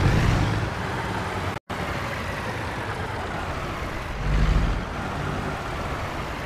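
A 500 horsepower truck engine in American Truck Simulator drones as a steady low rumble with broad noise, swelling briefly louder partway through, with no talk over it.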